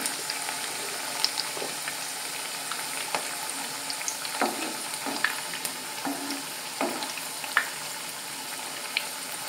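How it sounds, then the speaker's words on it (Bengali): Drumstick flower fritters fry in oil over low to medium heat, a quiet, continuous sizzle broken by scattered small pops and the clicks of stirring. "লো টু মিডিয়াম আঁচ দিয়ে এইভাবে বড়াগুলো কিন্তু ভাজতে হবে।"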